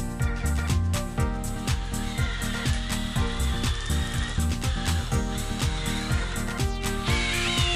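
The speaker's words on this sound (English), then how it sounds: "Just use that drill bit to try and rip and tear the rubber until the centre becomes free." A power drill whines and grinds in repeated bursts, its bit tearing into a tough rubber front suspension bushing on a Toyota Altezza, with a steady rhythmic chatter throughout.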